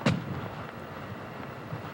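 A single shotgun blast at the start rings out during a rabbit hunt outdoors, one short boom fading into a faint, steady background.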